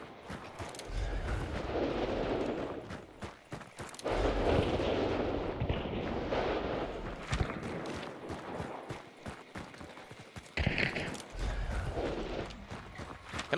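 Gunfire at AI enemies in the shooter Hunt crackles as scattered, fairly distant shots and sharp impacts over a rumbling, mechanical ambient bed, arriving in irregular bursts.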